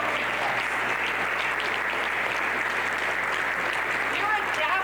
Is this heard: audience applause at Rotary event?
yes